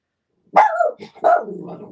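A dog barks close by, two loud separate barks with a short gap, the second trailing into a lower whining growl, in an indoor home art studio.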